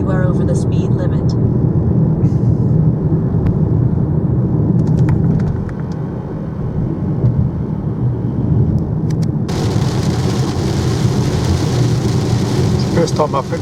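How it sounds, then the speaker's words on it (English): Rain falling on a BYD Atto 3 while driving toward Lindis Pass, wipers running, heard as a steady broadband wash over low road and motor rumble inside the cabin, continuous throughout with a brighter hiss in the later part. "So, a bit of rain before we hitting Lindis Pass."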